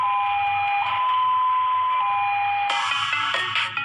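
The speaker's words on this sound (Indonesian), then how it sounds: "Kita seragam ambulans gawat darurat DKI Jakarta itu pakai bunyi halo." A Jakarta emergency ambulance sounds its 'halo' siren, a loud steady electronic tone with a warbling ring that holds throughout, joined near the end by brighter, busier tones.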